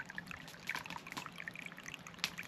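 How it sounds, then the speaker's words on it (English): Spring river water in the New England woods flowing and trickling close by, a soft continuous pour with small splashy bursts, fairly quiet and without voices. "It's a river."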